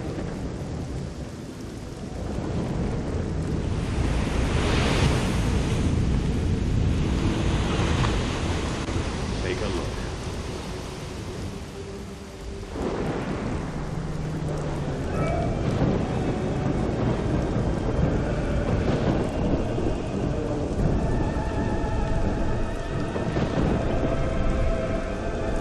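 Storm in the video game Risen 2: constant roar of wind and crashing waves with several deep thunder rumbles rolling through, loud and continuous, with voices briefly speaking over it.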